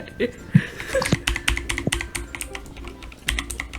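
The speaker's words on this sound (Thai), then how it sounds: "คีย์บอร์ดเสียงมันดังนะใช้บูสวิต" Loud mechanical keyboard with clicky blue switches being typed on at a PC during a Roblox speed-drawing game, a steady run of sharp close key clacks with brief pauses and faint background talk.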